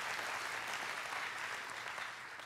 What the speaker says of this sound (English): that is worth applauding